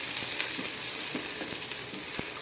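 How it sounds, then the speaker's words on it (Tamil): Onion, garlic, curry leaves and green chillies with mustard seeds, sautéing in oil for a tomato curry. A continuous crackling sizzle is broken by light, intermittent spatula taps and stirs, close and steady, with no voices. "எல்லாத்தையும் போட்டு நல்லா வதக்கணும் நல்லா கொஞ்சம் பொன்னிறமாக வர வரைக்கும் வதக்கணும்"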